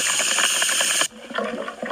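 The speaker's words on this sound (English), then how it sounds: "place the wheel on that spigot, and turn it on. And that will drain the shark water." Shark-tank water drains in Hello Neighbor after a spigot wheel is turned: a loud rushing hiss of water that cuts off abruptly after a second, leaving a quieter trickling, gurgling tail.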